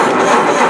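An old car engine just fitted with a new timing gear runs loud and close, a steady rough drone with a rattly edge and no voices.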